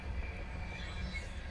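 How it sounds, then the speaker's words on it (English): A train passing at a distance, heard as a steady low rumble with a faint metallic hiss above it, continuous and moderately quiet throughout. "There is a train going by right now,"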